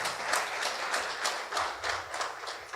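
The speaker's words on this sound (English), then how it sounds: "I want to give him a round of applause for his achievements." Audience applause at a Hindu temple gathering, honouring a pandit's achievements; steady, moderately distant clapping with a loose rhythmic pulse, continuous for about three seconds without speech.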